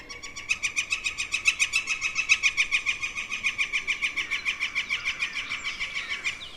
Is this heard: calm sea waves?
no